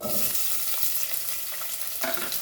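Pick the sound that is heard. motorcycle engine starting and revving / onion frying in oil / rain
onion frying in oil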